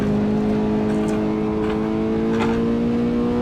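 A Toyota GT86 in Assetto Corsa pushed hard around the Nordschleife, its engine holding a loud, steady high-rev drone with a strong constant tone and faint tyre and wind texture underneath.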